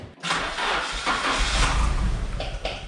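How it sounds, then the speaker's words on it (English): Nissan 240SX engine started and revved, a loud broadband roar rising and surging over a few seconds, close to the car, with no talk. "Modulate the RPM up and down, and let's see if we can hear rod knock before I buy fuel for it."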